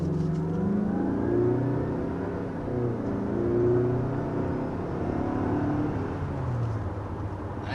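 A car with a 2.5 liter turbocharged 4-cylinder engine accelerates hard, a steady, fairly loud engine drone rising and falling in pitch, heard from inside the cabin with no talking.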